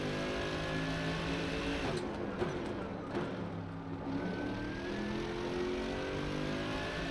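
A Mercedes AMG race car's engine droning and revving in the PlayStation 5 racing game Rennsport, a steady mid-pitched engine tone with rising gear sweeps and brief tyre or shift noise, no talk.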